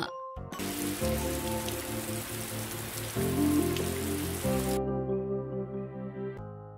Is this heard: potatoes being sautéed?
no